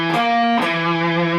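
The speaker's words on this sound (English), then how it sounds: "The second half of the riff goes up to a tritone." Distorted electric guitar plays a short riff, a held low note stepping up to a tritone above, sustained and buzzing with amplifier distortion, loud and alone.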